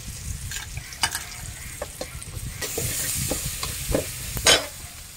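Onions sizzle and crackle steadily in hot oil while a utensil scrapes and stirs the pan, with a few sharper clinks near the end.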